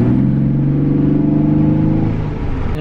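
A 2017 Chevy Colorado Z71 engine fitted with an aFe cold air intake revs hard, giving a loud, close, throaty roar that holds strong and steady with a slight dip toward the end.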